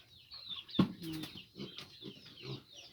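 Chickens cluck softly and intermittently around a small farm with pigs, with a sharp thump and a few louder squawks standing out against quiet background.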